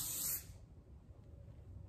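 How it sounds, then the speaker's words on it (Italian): Makeup setting spray misted from a can held at a distance: one brief, close, bright hiss lasting under half a second, then quiet room tone. "potete andare poi con gli spray fissativi. Mi raccomando, vaporizzateli a una certa distanza"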